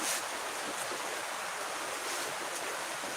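Belawan River in North Sumatra flows with a steady, broad wash of rushing water, constant and fairly loud throughout, with no voices over it.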